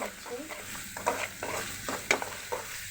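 Spice paste of turmeric powder, chili powder and black cardamom frying in a pan for a beef and bottle gourd curry, soft steady sizzling broken by regular scraping stir strokes, close and moderately loud with no talk.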